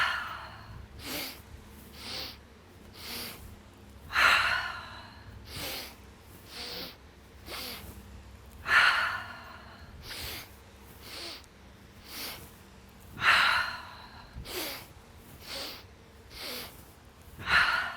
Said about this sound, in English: Take a cleansing breath. Big exhale.